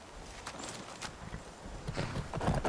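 Horse hooves clip-clopping at a walk in the Skyrim Wildlander video game, a soft, uneven run of steps close by that grows slightly louder toward the end.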